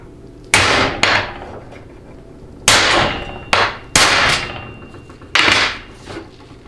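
Five firm hammer blows, then a sixth, tap a new seal into the tail of a 2WD transmission extension housing (4L60E, 700R4 or TH350), each strike sharp and close with a short ringing decay, no voices.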